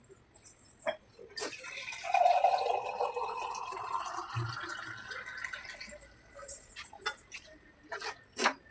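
Water pours into a pan of fish curry on the stove, a sustained splashing fill followed by scattered drips and clinks, close and clear.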